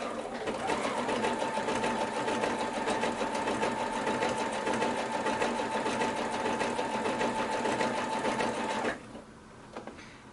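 A sewing machine stitches a double quilt binding in one loud, steady, fast run, then stops near the end, leaving quieter handling sounds.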